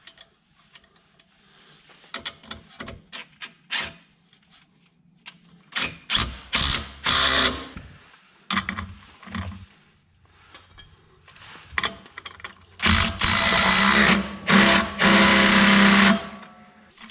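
Mechanical ratcheting and clicking from a wrench tightening lift kit bolts on a Jeep Gladiator during an Iron Rock Off Road 2-inch lift install, coming in irregular close bursts with quiet gaps between them.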